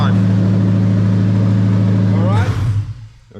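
A Lexus LS400 1UZ-FE V8 running with no exhaust fitted, loud and close, holding a steady rumbling idle before the revs drop sharply and the engine settles and fades near the end.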